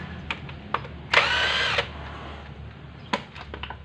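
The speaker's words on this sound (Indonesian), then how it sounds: "kita buka baut 4 biji cover atas" A power drill-type tool briefly whirs for under a second while unscrewing transmission top cover bolts, surrounded by scattered metallic clicks and taps of handling parts, with no talk.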